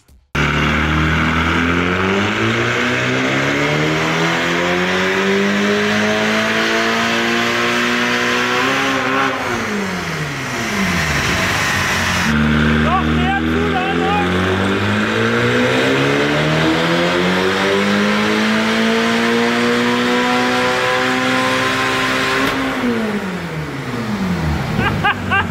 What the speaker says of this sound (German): Prüfstand mit Heckantrieb und über 700 PS.